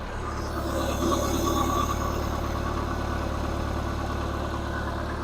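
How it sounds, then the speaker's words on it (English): A running car engine idles steadily and close by, with a slight ticking noise riding on its even low hum throughout, no voices over it. "Good news is the engine is running a lot better."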